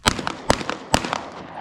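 Sharp rifle shots cracking on an outdoor shooting range during AR rifle training, three loud close reports roughly half a second apart with smaller echoing impacts between them.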